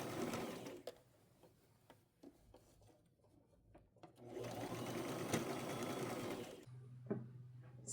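A sewing machine stitching the top part of an old top being made into a tunic, quiet bursts of rapid mechanical whirring with pauses and small handling clicks between runs.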